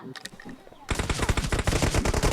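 Automatic gunfire in the battle royale game BGMI, a sudden dense burst of rapid loud shots starting after a quieter opening and continuing in a fast, steady rattle to the end.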